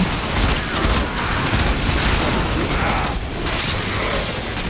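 A grenade launcher explosion in Warframe bursts with a dense, loud boom and rumbling blast amid game mechanisms and clatter, sustained and noisy across the whole moment.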